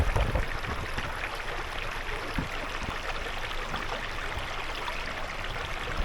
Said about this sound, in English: listen and relax, sleep, study to this babbling creek